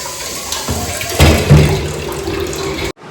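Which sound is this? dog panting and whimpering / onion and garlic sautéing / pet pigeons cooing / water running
water running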